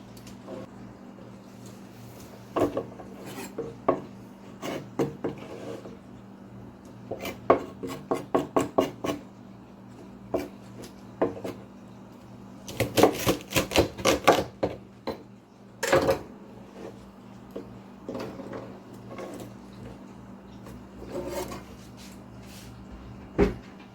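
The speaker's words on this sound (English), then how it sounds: "because these are nice thin stalks and not very woody ones, they're really easy to trim" A knife trims the ends off thin, non-woody vegetable stalks on a cutting board, with sharp close taps and cuts in irregular bursts and a faint steady hum underneath.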